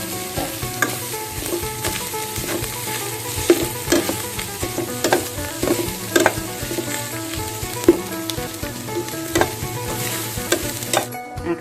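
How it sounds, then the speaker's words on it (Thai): Steady crackling sizzle of grilled, flaked catfish dry-frying in a hot pan, with irregular scrapes and clinks of a utensil stirring throughout. "นำปลาดุกมาคั่ว"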